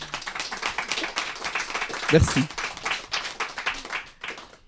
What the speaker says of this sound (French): Je veux aussi qu'on l'applaudisse.